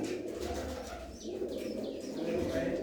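Pigeons coo in a breeding loft in Dheri village near Khanna, where pairs are raising chicks. The low cooing runs steadily throughout at moderate loudness, with a few light chirps above it.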